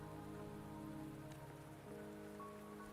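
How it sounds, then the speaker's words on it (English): Soft, even rain patters throughout a scene in the video game Wuthering Waves, with quiet sustained music tones underneath and no voices. "Don't worry, the rain won't last much longer."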